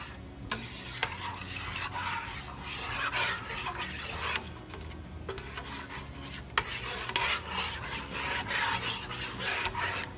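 Muscadines are stirred and smushed against the side of a pot, a steady scraping, rasping rub with a continuous wet sizzle beneath and occasional clinks; no one speaks.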